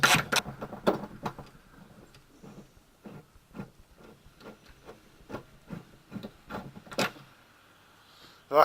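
A ratchet wrench clicks in quick, uneven bursts while loosening a motor mount bolt on an SRT-4, close and moderately loud, with short pauses between runs of clicks and no talking.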